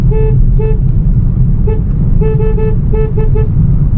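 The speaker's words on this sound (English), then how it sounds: "F32 platform, which is the high tone horn." A BMW F30/F32 car horn with a faulty high-tone horn sounds in a series of short and longer toots of uneven rhythm over a steady low rumble.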